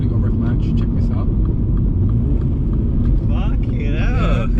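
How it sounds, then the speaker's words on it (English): A 228 bhp Mini John Cooper Works engine drones steadily from inside the car, then sharp rev-match blips rise and fall as it downshifts, with people talking over the engine. "it's definitely got rev match. Check this out."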